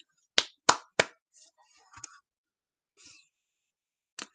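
Three sharp hand claps in an even rhythm, followed by faint voices and a couple of softer claps near the end, with one clap trailing at the close.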